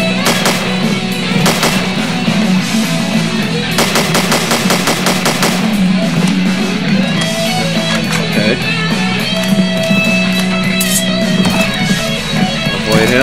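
Rapid automatic gunfire in the video game Slendytubbies: Growing Tension, dense bursts of shots over a constant loud droning game soundtrack, with a few sharper volleys standing out.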